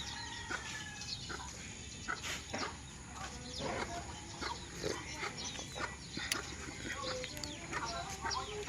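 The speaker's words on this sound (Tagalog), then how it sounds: "Daming alagang manok ni Kuya Uy oh." Many backyard chickens cluck and call at a rural home, scattered bursts near and far over a constant background hiss, with occasional faint voices.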